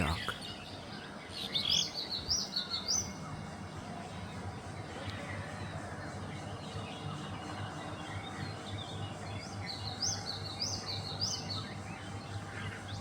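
Various birds call before sunrise around a rooftop, repeated rising chirps and twitters that stand out at moments, over a faint steady background hum.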